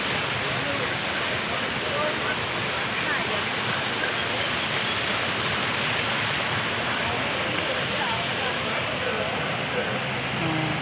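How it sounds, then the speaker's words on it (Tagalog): Clean river water rushing steadily at Campestohan Highland Resort, a loud, broadband flow held constant and close throughout with no break. "Ito ang suba sang Kampistuhan."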